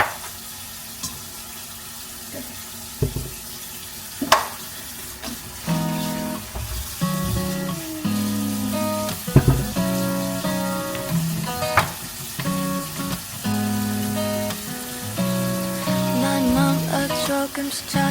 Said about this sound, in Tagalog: Magpa-brown muna tayo ng pork